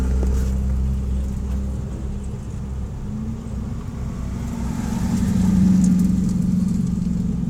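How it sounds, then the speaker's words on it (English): A Chevrolet Corvette runs a course at an SCCA autocross in Grand Forks, North Dakota, its engine droning at a moderate distance and swelling louder toward the end as it accelerates past. "There's a Corvette on track now"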